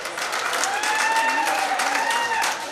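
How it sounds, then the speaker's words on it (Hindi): An audience at a poetry gathering claps in a loud, continuous burst of applause, with a few voices faintly audible under the clapping before it tapers off at the end. "एक बार जोरदार तालियां बजाकर माहौल दीजिए।"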